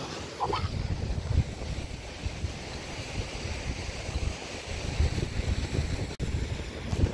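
Sea surf washing onto a beach, a continuous close wash of breaking waves with gusts of wind on the microphone, alone without voices.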